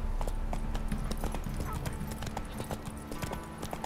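Steady clip-clop of Roach the horse's hooves in The Witcher 3, a brisk continuous galloping rhythm close by, with faint game sounds underneath.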